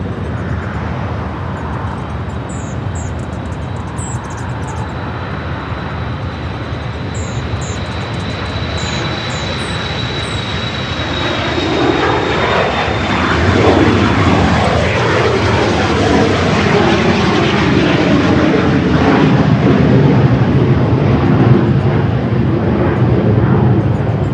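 An airliner at LAX begins its takeoff roll on runway 24 left, bound for Jackson, Wyoming; a steady jet roar swells from a distance into a loud, continuous rumble that holds through the end.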